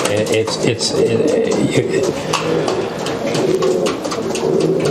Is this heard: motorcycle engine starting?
no